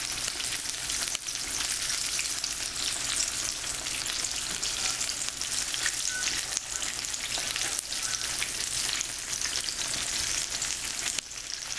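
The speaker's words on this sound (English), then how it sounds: "And we're going to let it fry on this side for about 3 minutes as well." Chicken fried steak frying in hot oil, a dense, even crackling sizzle that holds steady and loud from start to finish with no voices.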